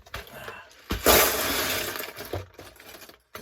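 Loose plastic bricks clatter and rattle as a pile is poured out, a rushing jumble of small clicks after a couple of sharp knocks.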